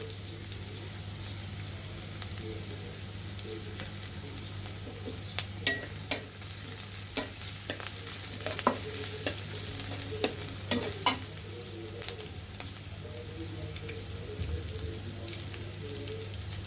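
Onions fry in a pan with a continuous soft sizzle, broken by scraping stirs and a few sharp clacks of a utensil against the pan.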